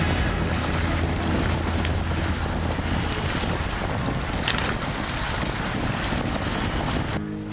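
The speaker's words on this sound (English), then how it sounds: "So it all starts with this boat ride" A boat's steady engine drone and rushing water with heavy wind buffeting the microphone, continuous and close, ending abruptly.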